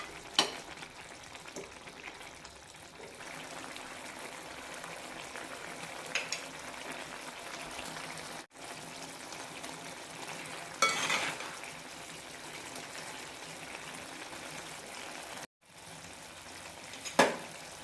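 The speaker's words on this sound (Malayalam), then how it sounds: "ഇത് നന്നായി ഒന്ന് കുറുക്കിയെടുക്കാം" Drumstick and tomato curry simmering uncovered in a pan to thicken, with a soft continuous bubbling sizzle, faint and close, broken by a few brief clicks and pauses.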